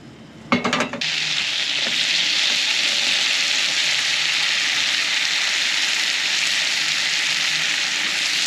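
Butter sizzling all around a hot wok, a loud, steady hiss of frying that begins abruptly after a brief clatter and holds unbroken to the end.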